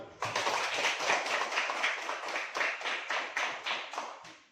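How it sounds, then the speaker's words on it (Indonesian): A classroom audience applauds a group presentation, a dense patter of many hands clapping steadily for about four seconds, fairly soft and slightly distant, then trailing off. "Mari dulu tepuk tangan untuk kelompok 1."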